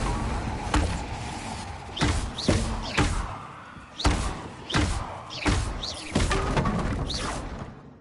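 Spell casting in Hogwarts Legacy combat, with the Confringo fire spell among others, heard as a rapid series of loud whooshing blasts and thumping impacts in quick succession, with brief pauses between bursts.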